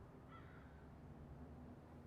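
A crow gives a single faint, distant caw outdoors in Oakland over a steady low background hum.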